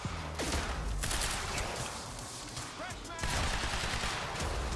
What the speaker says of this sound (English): Okay, I'm gonna have to pick up an assault rifle.